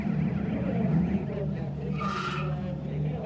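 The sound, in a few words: GT race car driving on circuit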